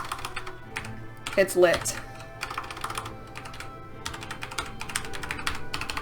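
A password being typed on a computer keyboard, heard as quick, close, irregular bursts of key clicks with short pauses between them, while a voice talks briefly over the start.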